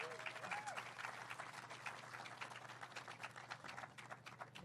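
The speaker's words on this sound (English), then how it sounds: "let's give another round of applause for our Mayor Rex Richardson." An outdoor crowd at a city groundbreaking ceremony for a Long Beach amphitheater applauds in a steady, fairly faint wash of clapping, with a low hum and a faint voice underneath.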